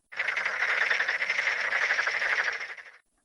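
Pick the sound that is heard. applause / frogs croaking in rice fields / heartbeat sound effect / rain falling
frogs croaking in rice fields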